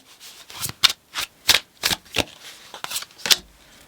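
Tarot cards being shuffled by hand in a rapid series of close, crisp riffling bursts, about ten quick slaps and flutters with no talking.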